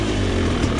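A Rieju 300 two-stroke dirt bike engine pulls hard on the throttle, giving a loud, close, continuous raspy roar with no pause.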